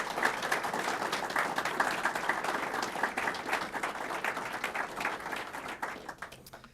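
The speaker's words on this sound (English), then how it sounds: "let's give them all one more round of applause" Sustained applause from the audience at a police swearing-in ceremony, many hands clapping in a steady, dense patter at moderate distance that tapers off slightly at the end.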